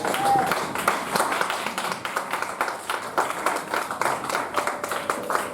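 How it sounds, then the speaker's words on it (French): Church congregation applauding in a hall, a dense continuous patter of many hands clapping at moderate loudness, with some voices mixed in. "On acclame la parole de Dieu."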